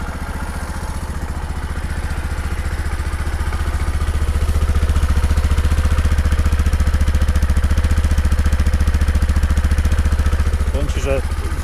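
A 125cc RMT Daystar (Daelim) scooter engine idles steadily and fairly loudly, a low even putter that holds for the whole stretch, with a brief clatter near the end.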